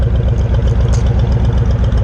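A Honda Fury chopper motorcycle fitted with a slip-on exhaust idles close by, its deep, loud engine pulsing in a fast, even, throbbing rhythm without any change in pace.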